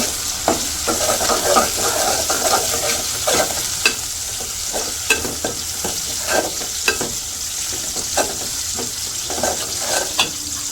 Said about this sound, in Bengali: আদা রসুন দিয়ে দিই এগুলো এখন একটু তেলের সাথে ভাজে নিই